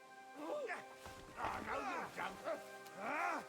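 Dog in Kingdom Come Deliverance 2 giving short yips and whimpering barks, several bursts close by, mingled with a voice talking to it.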